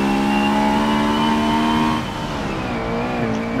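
A Honda NSX racing at Mugello in the game Forza 7, its engine a loud, steady high whine that drops in pitch as it shifts or lifts off, with no voices.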